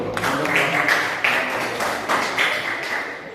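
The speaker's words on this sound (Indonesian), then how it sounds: "Ya, tepuk tangan dulu." An audience in a classroom presentation session claps for a few seconds, with a steady patter of hands in the room.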